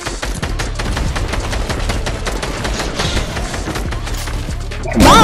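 Rapid gunshots from a weapon in the video game Fortnite, a dense run of sharp cracks firing almost continuously, loud and close, ending in a louder burst of game sound.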